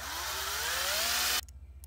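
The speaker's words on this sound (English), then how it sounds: "And now I'll drill there and there." A power drill bores a hole in a metal tube for a badge, a brief rising whine that cuts off abruptly, followed by faint clicks.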